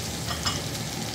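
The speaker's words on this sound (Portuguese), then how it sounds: "Tô fritando a gordurinha que vai soltando ali no fundo da panela, tá vendo? Gordura da própria linguiça, do bacon" Fat rendered from sausage and bacon frying at the bottom of a pot for feijoada, a steady close crackling sizzle with no speech.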